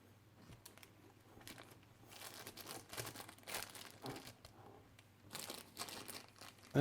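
A plastic bag wrapped around a Feinwerkbau P8X air pistol crinkles and rustles in irregular bursts as it is handled, close and moderately quiet, with no talking.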